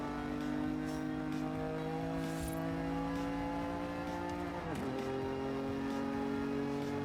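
A car engine in a driving video game drones steadily with rich harmonics as the car is swung around. The pitch dips sharply midway, like a shift or lift, then climbs again, loud and close with no voices.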